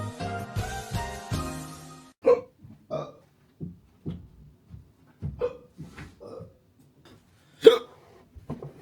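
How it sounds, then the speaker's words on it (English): Repeated hiccups from a person who has just been eating messy street food, sharp isolated bursts recurring irregularly every second or so, close and fairly loud, with brief vocal noises and breathing between them after a short opening stretch of voiced sound. "It has also given me raging hiccups."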